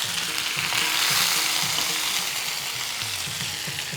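Curry leaves and dried red chillies sizzle in hot oil for a mango pulissery, a loud, close, continuous crackling hiss with rapid popping and spluttering throughout.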